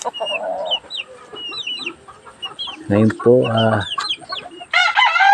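Chickens cluck and chatter close by in a farm flock, with a rooster crowing loudly partway through and again at the end, and a person speaks briefly among them.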